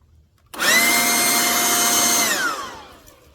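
A 40V cordless leaf blower running on turbo whines up abruptly, holds a loud, steady high-pitched motor drone for about two seconds, then spins down with falling pitch.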